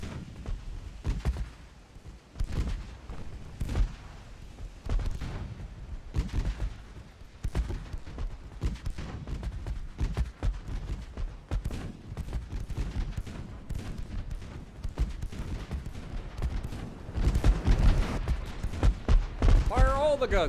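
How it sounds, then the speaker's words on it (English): Guns fire in a video game USA campaign, with repeated heavy gunshots and bursts of fire at an irregular rhythm, growing denser toward the end, under steady talking. "Fire all the guns."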